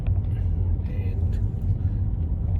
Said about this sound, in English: going over these annoying little speed humps